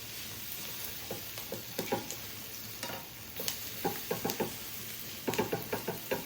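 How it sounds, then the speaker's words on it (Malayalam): Dried fish frying in oil in a home kitchen, a steady crackling sizzle with scattered knocks and clatters as the pan is stirred. "ഇത് നമുക്ക് റെഡിയാകുമ്പോൾ അങ്ങ് പൊരിച്ച് കോരണം"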